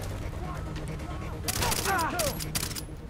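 Rapid bursts of gunfire in the video game Far Cry 3 break out halfway through, crackling loudly over a low, steady background rumble.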